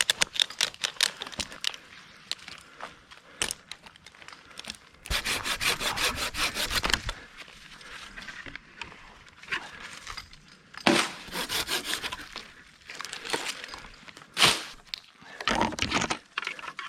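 A saw cuts through cherry tree branches high in a treetop, in repeated bursts of rapid, rasping strokes separated by short pauses, fairly close and clear with no talking.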